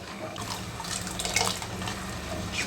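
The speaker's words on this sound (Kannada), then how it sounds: "ಮಿಕ್ಸಿ ಜಾರ್ಗೆ ಸ್ವಲ್ಪ ನೀರು ಹಾಕಿ ಹಾಕಬೇಕು" Water splashes and trickles steadily into a mixer jar for a few seconds, close by, with no voices.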